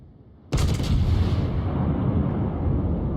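A British battleship's big guns fire a high-explosive salvo in World of Warships. It opens with a sudden loud boom that rolls into a long, heavy rumble and fades slowly, with no voices.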